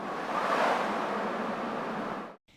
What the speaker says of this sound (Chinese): 第一个环境音效有 Whoosh 的特点，有种大风呼啸而过的感觉